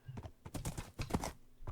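A galloping horse in Minecraft clip-clops in quick, uneven hoofbeats, loud and close, with no speech.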